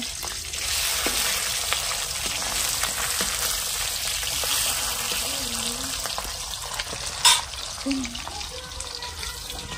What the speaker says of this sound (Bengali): এ দেখো মাছ ভাজা হয়ে গেছে